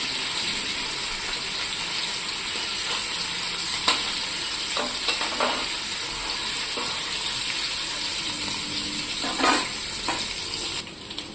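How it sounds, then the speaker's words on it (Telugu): Paneer cubes frying in a pan for a paneer, peas and potato curry, giving a steady close hiss of sizzling oil with a few brief scrapes and stirring knocks. "ఇప్పుడు పన్నీర్ అంతా వేసేసి నేను ఫ్రై చేసేస్తున్నాను."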